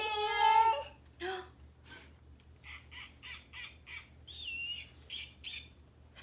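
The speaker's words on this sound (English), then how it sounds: "A snowy owl. Snowy owl." A snowy owl calls with a drawn-out harsh note, then a series of short, rasping, laugh-like barks repeated in an uneven rhythm, moderately close against a faint background hum.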